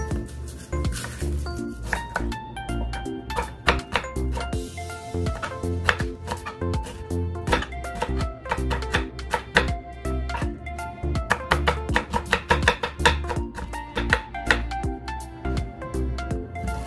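A knife chops onions, ginger and garlic on a cutting board with fast, steady, close knocks that run almost continuously, briefly easing and then picking up again.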